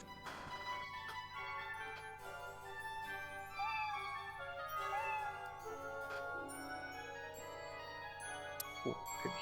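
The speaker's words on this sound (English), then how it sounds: "Oh, I can hear the cat, but I cannot see it." A cat meows at a steady, clearly audible level among a busy layer of video game music and chiming tones from the action role-playing game Odin Sphere, with no voices talking over it.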